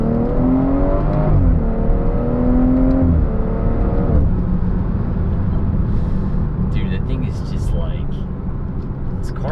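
A BMW with the B58 engine revs and accelerates hard, its loud engine note climbing in pitch, dropping back and climbing again, then settling into a steady roar that fills the whole stretch, close and dominant.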